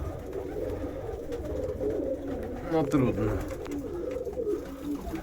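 Pigeons in a breeding loft coo softly and steadily behind a speaker, with one louder rolling coo near the middle. The birds stay close and continuous under occasional talk.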